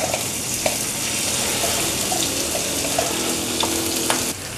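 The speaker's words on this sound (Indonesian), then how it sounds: "Kalau minyak sudah panas, bumbunya atau bumbu halusnya kita masukkan." Ground spice paste goes into hot oil in a wok and sizzles loudly at close range, with a few clicks and taps. A sustained hiss runs throughout, and nobody speaks.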